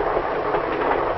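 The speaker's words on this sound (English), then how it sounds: "Now Bob understands why it's at the rear end of the train." A 1950s passenger train with a glass-domed car and an observation car at the rear, heard as a steady, dense rolling rumble of wheels on rails with no pauses.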